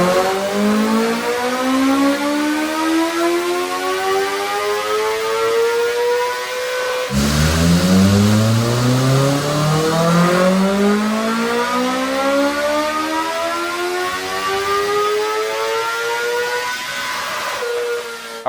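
A 2026 BMW M1000RR superbike revs hard on a dyno, its engine loudly climbing through two long wide-open pulls with a sharp drop and re-rise between them. No one speaks.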